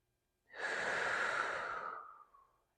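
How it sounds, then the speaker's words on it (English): A single deep breath is drawn in through the nose and released through the mouth during a core exercise: one smooth, close airy rush that swells quickly, holds, then fades out. "So deep breath in through the nose"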